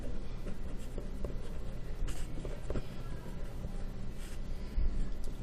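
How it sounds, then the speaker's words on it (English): Pen or pencil scratching steadily across paper while handwriting math class notes, a continuous close, soft scraping texture with small strokes and taps running throughout and no voice. "Let's write that down so we just remember."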